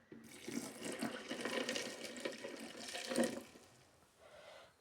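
Water pours steadily for about four seconds, a splashing, rushing stream for homemade grape juice that tapers off at the end.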